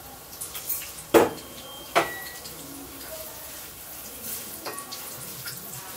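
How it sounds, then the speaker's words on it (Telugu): Onions frying in a large amount of hot oil for a country chicken curry: a soft, steady sizzle with a couple of sharp utensil clanks near the start and faint stirring scrapes later. "ఆయిల్ హీట్ అయింది కాబట్టి ఇప్పుడు ఆనియన్స్ వేసుకుందాం."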